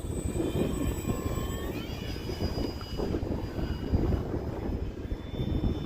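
Radio-controlled Arrows F4U-4 Corsair model airplane on a 3S battery flying overhead, its steady electric motor and propeller whine shifting in pitch as it passes, loud and continuous with no talking.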